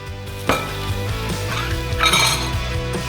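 A metal tandoor lid closes over lamb in a busy Turkish restaurant kitchen, with a sharp metallic clank followed by ringing, clinking metal and scraping that continues steadily throughout.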